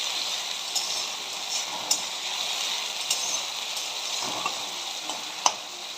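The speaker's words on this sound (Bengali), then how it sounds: "চিকেনটা দিয়ে আমি এখন বেশ ভালো করে একটু কষিয়ে নেব" Chicken and onions are stir-fried in a pan, with a steady close sizzle and occasional light clicks and scrapes from stirring, no talking.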